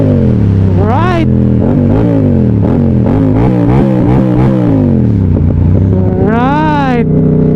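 A 2024 Yamaha R7 motorcycle engine revs up while riding, loud and close, with rising pitch sweeps through the gears, a sharp climb near one second and another near six to seven seconds, under someone talking.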